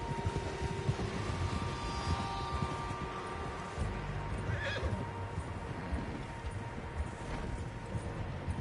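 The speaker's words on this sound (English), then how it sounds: "Horses, quite a few of them." In the video game Red Dead Redemption 2, horses whinny and hooves clop steadily amid a continuous low rumble, with one sharp neigh rising midway through.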